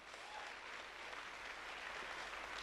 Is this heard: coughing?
no